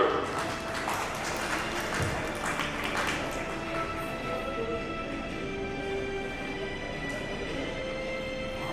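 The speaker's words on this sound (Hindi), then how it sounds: "जोरदार तालियां हो जाए एवरीवन" Audience applause at an award ceremony, a scattered, moderately loud clapping over the first few seconds that thins and fades out beneath sustained tonal music.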